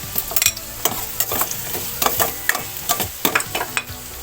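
Garlic and onion sauté in hot oil in a pan for sinigang while a utensil scrapes and stirs, producing loud, close crackling sizzle punctuated by quick irregular clatters and scrapes; no voices.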